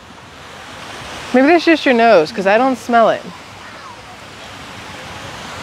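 Surf at Navarre Beach, Florida, a soft, steady wash of waves with wind in the background, briefly under a short conversation between people nearby.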